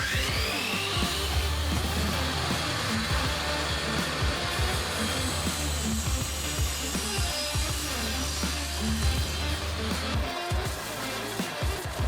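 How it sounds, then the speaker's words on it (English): A power drill bores partway into reclaimed pallet wood, giving a steady, loud, close whine that runs continuously without pause and with no talking. "I'm only drilling in partially, like only that far."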